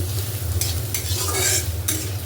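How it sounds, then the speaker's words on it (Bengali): Onion, garlic and green chilli fry in a pan with a loud, close sizzle, broken by a few scraping stirs of the spatula, and no one speaks. "তো পেঁয়াজ, রসুন আর কাঁচা লঙ্কাটাকে আমি খুব ভালোভাবে ভেজে নেব।"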